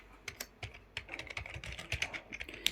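Rapid light tapping of fingers typing on a mobile phone screen keyboard, a quick irregular run of soft clicks heard close and alone.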